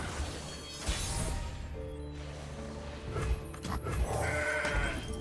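Goat bleating from the Legends of Runeterra card game, a short wavering bleat amid clattering game sound effects and impacts, moderately loud with no talk over it.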